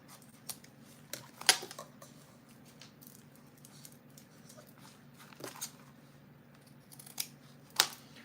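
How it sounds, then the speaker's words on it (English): Scissors snip off excess zipper tape while a small Araki box bag is sewn, giving several sharp, separate cuts spread over a quiet stretch, close by and fairly faint. "I'm going to cut off the extra zipper tape"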